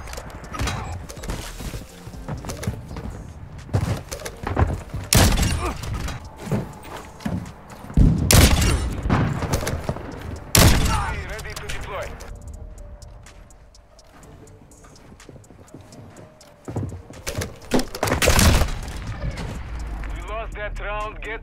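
Gunfire from an FSS Hurricane in a first-person shooter match: loud, sharp bursts recurring every few seconds over busy game noise and excited voices.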